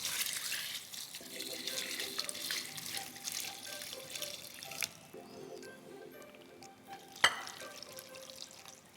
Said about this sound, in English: let's put some warm water into these three items